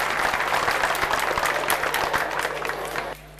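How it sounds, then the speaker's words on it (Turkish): Audience applause at a Turkish religious celebration event in the Netherlands, a dense sustained clapping from a large crowd that fades slightly before dropping off abruptly near the end. "Sahnede bulunan bu güzel insanlara sizlerden kocaman bir teşekkür alkışı istiyorum ve alkışlarımızı uğurluyoruz efendim."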